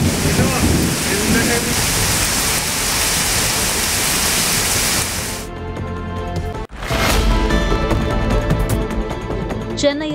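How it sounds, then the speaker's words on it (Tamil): Heavy rain driven by strong gusty winds over hill villages, a loud dense roar that cuts out abruptly partway and returns. "சூறைக்காற்றுடன் பலத்த மழை பெய்ததால் வெப்பம் தணிந்து குளிர்ந்த சூழல் நிலவியது"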